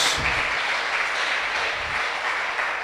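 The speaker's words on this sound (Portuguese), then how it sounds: "Aplauda ao Senhor." A church congregation at a missions service applauds during worship, a steady wash of clapping from many people, even and moderately loud throughout with no speech over it.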